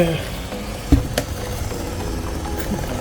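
A small amount of oil sizzling in a pan before onions and prawns go in for ndolé, with a close frying hiss, a sharp clatter near the start and low background noise.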